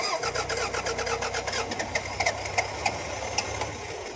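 A Toyota RAV4 that had trouble starting cranks and its engine catches after the fuel primes, a rapid mechanical chatter giving way to a running idle with irregular clicks and knocks, close and loud.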